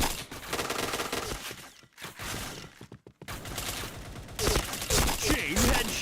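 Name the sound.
gunshots in a video game shooter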